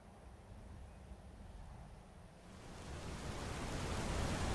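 Waterfall effects from the Natural Waterfalls video game mod: a soft, steady rushing wash of falling water that grows noticeably fuller and louder halfway through, heard alone without voices.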